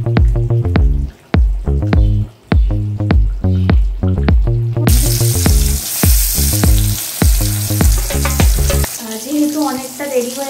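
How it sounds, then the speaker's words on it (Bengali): Five kinds of fried dishes are cooked for a Bengali Jamai Sasthi meal; a loud hissing sizzle rises about halfway through and continues under rhythmic, beat-driven music. "মা এখন ওই 5 রকম ভাজাটা করবে"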